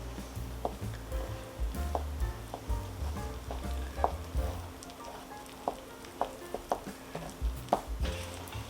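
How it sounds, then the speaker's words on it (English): Flour is worked into a Polish Easter bread dough with raisins, giving soft, irregular stirring and thudding sounds with small knocks, quiet and close, with no talking. "Add some more flour to it. Almost done. Mix it in."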